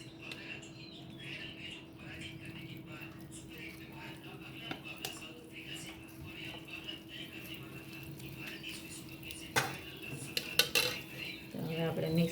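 Bhel is mixed with chutney in a bowl, a quiet run of spoon scrapes and clinks against the dish that grows busier and louder toward the end, with faint background noise throughout.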